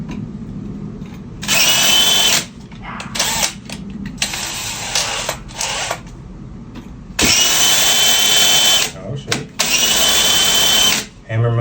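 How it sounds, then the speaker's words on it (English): A power drill with a very dull bit whines in loud bursts, starting and stopping repeatedly with short pauses, while a person talks in the gaps between runs. "This is one of the best drill bits, but as you can see, it's very dull."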